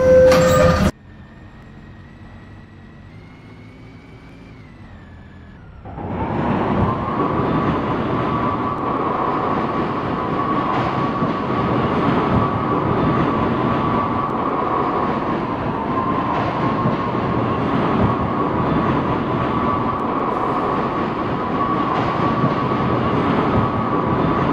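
Subway train in a Roblox game: a low quiet hum, then the train starts moving and settles into a loud, steady rumbling roar that carries on without a break.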